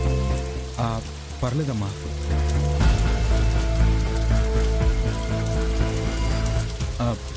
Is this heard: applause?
no